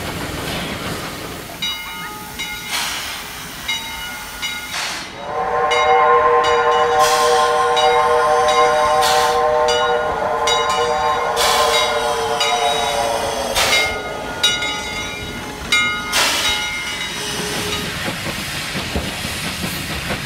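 A small Heisler narrow gauge steam locomotive pulls a passenger train at Roaring Camp, its loud steady chuffing and hiss rising after a few seconds, with a sustained whistle-like tonal blast in the middle and rail clatter throughout.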